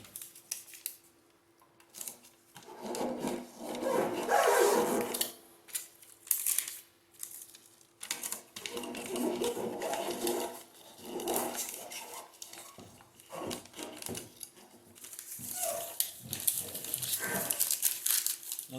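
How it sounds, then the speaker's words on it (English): Aluminum foil duct tape is unrolled, torn and pressed over the openings of a renovated Karmann Ghia fuel tank, giving bursts of crinkling, rustling and ripping close by, separated by short quiet gaps, with no talk. "I'm going to seal the openings here with some of this aluminum foil tape just to make sure everything's sealed"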